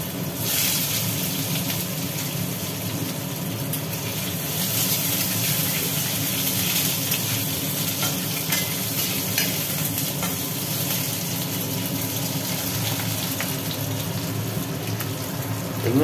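Potatoes frying and being stirred in hot oil with cumin, bay leaf, cardamom, clove and cinnamon, a steady close sizzle with scraping strokes running for about sixteen seconds and no talk.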